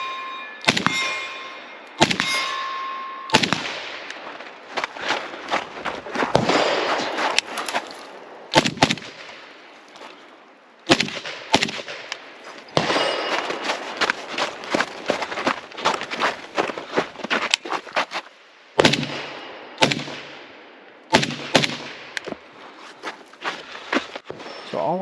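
A modernized Kalashnikov AK rifle fires loud, close, sharp gunshots, some single and some in quick bursts, spaced irregularly with short pauses between strings of shots.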